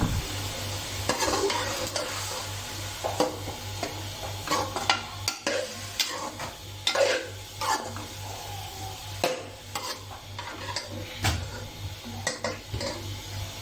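Onions for keema karela hiss in a pan under repeated scraping and stirring strokes, with occasional utensil knocks against the metal, close and fairly soft, no voices.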